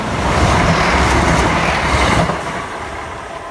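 A CrossCountry train, 1V66 Glasgow to Plymouth, passes a level crossing at Morris Hill, heard close up as a loud sustained rumble with rail clatter that eases slightly toward the end.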